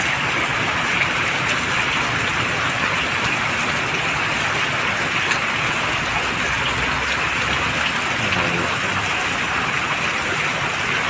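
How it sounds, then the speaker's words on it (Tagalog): Heavy rain from Typhoon Krising pours steadily in Luzon, a dense, constant hiss that fills the whole stretch with no pauses and no voices. "Kalakas ng ulan."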